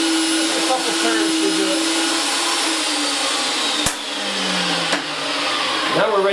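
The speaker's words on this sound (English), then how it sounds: "Start the machine again." A Wheeler-Rex 8090 pipe reaming machine runs with a steady, loud motor drone and whine, broken by a couple of sharp clicks, while someone speaks briefly over it.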